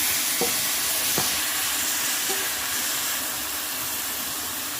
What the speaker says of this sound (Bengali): এবার আমি মোচাটা দিয়ে দিচ্ছি, সিদ্ধ করা মোচাটা দিয়ে দিচ্ছি।